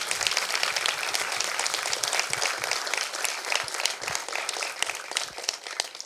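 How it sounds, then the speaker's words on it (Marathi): An audience at the Shravansari 2024 event gives loud, dense, sustained applause, a steady roar of many hands clapping at once without a break. "सरांसाठी एकदा जोरदार टाळ्या होऊन जाऊ द्या"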